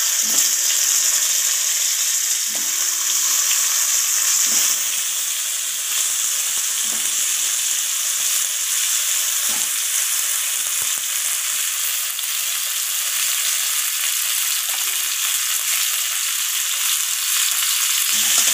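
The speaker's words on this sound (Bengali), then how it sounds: "কপি ভাজার এই একই তেলের মধ্যে আমি কেটে রাখা আলুগুলোকেও দিয়ে দিলাম।" Cut potatoes fry in oil already used for frying cauliflower, giving a steady, close sizzle that hisses unbroken throughout with faint scraping stirs now and then.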